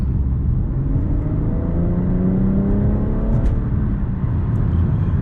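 A 2017 BMW 440i coupe engine revs up steadily under acceleration, its rising whine climbing in pitch over a loud, constant road rumble.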